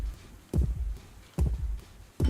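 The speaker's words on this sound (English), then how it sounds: "then your heartbeat gets faster." A heavy thumping heartbeat in a horror video game comes in slow paired throbs, loud and close, three distinct beats spaced about a second apart.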